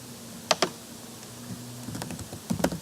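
Computer keyboard keys are pressed in a few quick clicks, a pair close together, then a scattered cluster of taps, close and clear over a faint background hum.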